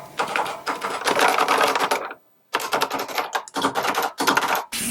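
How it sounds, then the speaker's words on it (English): Rapid clattering keystrokes on a pristine, almost unused keyboard of a Supercom Apple II clone, close and crisp, come in dense bursts broken by a short silent pause and a few brief gaps. "And here is the keyboard. It's in pristine condition, almost unused, and surprisingly nice to type on."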